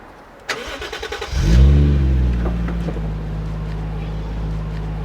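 A Toyota Chaser Tourer V JZX100 Exciting Package sedan, a special-edition 100-series with around 50,000 km, cranks over and fires into a steady idle, heard close and loud after a brief starter whir with no talk.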